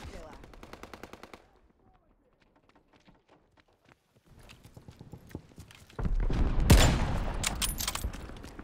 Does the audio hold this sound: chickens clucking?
no